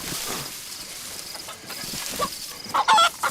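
A chicken in the survival video game DayZ clucks in short bursts, the loudest near the end, over a quiet game background with no talk.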